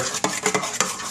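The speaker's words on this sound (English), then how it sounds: "Give that a stir." A chicken wing mixture of garlic, parsley, salt and pepper is stirred in a bowl, giving four or five quick, close scraping strokes in a brief burst.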